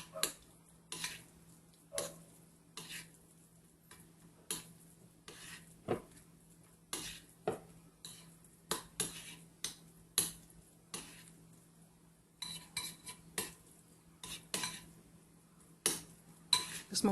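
A utensil stirs red food colouring into Trinidad-style cheese paste in a bowl with sharp, irregular scraping clicks close by, between quiet gaps, under a faint steady hum.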